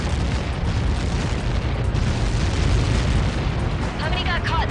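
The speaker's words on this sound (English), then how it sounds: "How many got caught in that explosion?" Massive explosion in the combat flight game Ace Combat 7, a sustained, loud, rumbling blast roar filling the whole stretch, with a radio voice briefly cutting in near the end.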